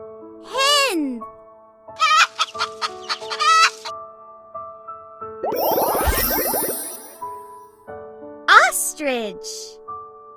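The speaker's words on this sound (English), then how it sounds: "Hen." A hen clucks and a rooster crows in a close, loud sequence of repeated clucks and calls. A voice speaks briefly among them.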